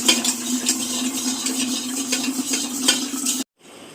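A spoon stirs a drink in a kitchen with a steady scraping clink, loud and close for over three seconds before stopping abruptly, followed by faint room noise.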